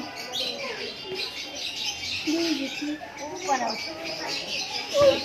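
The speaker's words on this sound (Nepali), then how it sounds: "सुगाको बच्चाहरू पो रहेछ" Young parrot chicks chirp and peep at a zoo enclosure in Darjeeling, a cluster of thin, high calls scattered through the clip over steady background noise and faint talk.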